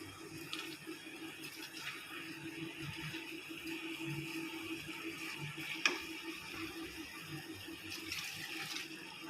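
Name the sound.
pouring water into rice for chicken biryani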